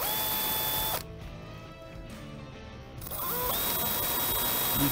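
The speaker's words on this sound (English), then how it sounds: "remove the hood rest so I can drill out those holes" A power drill whines and grinds as it bores through the plastic of a Can-Am Commander UTV, the pitch dropping briefly midway under load before returning to a steady buzz.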